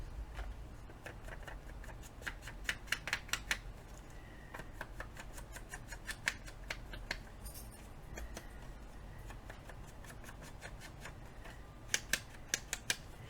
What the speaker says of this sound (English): Now I'm going to use my scissors